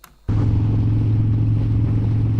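A motorcycle engine in motovlog footage comes in suddenly and holds a loud, steady low rumble at an even idle-like pace, with no voices over it.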